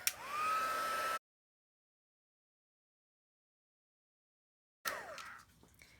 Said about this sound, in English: So I'm going to pull in my heat tool and heat this up.